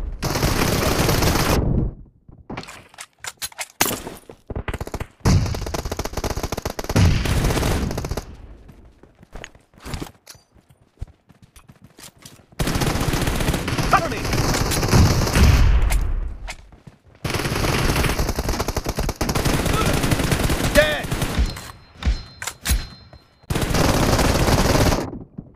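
Gunfire in the video game PUBG during a team domination match, loud sustained bursts of automatic weapon fire broken by short quiet gaps and scattered single shots.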